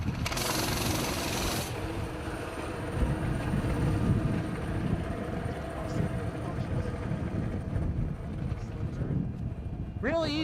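A Coleman trail bike engine runs with its choke on after starting, a loud, rough, continuous rattle near the microphone that holds steady for about ten seconds.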